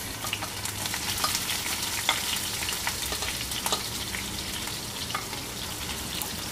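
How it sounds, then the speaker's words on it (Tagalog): Onion frying with browned pork pieces for pork menudo, a dense, even sizzle with light crackles and occasional stirring, close and continuous with no voices. "tapos pagka medyo brown na siya, lalagay na yung sibuyas"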